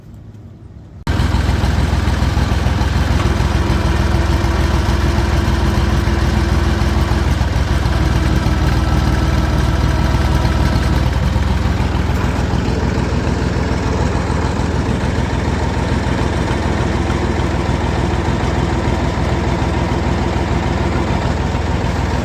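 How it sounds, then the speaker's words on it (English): A Landini 5830 tractor engine cranks and catches about a second in, then settles into a loud, steady, close-up diesel idle with a constant low rumble and no talking. "So, we'll close it up and start it up."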